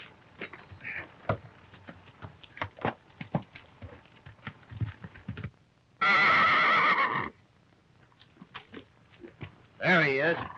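Horse whinnies loudly in a Western action scene, two separate neighs rising clear above nearby hoof clatter and movement, the second shorter with a wavering pitch.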